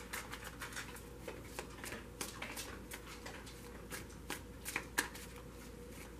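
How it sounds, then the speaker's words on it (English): Tarot cards being shuffled by hand, a steady run of soft riffling and slapping card sounds, close and fairly quiet, with no talk over it. "so I'm only going to shuffle for a minute more."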